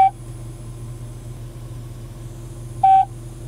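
An OnStar unit in a 2007 Chevrolet Silverado LTZ dials out and fails to connect: two short electronic beep tones several seconds apart over a steady idling engine hum inside the cab.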